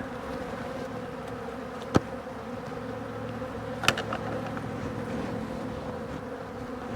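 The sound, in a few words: honeybees buzzing around beekeeper at hive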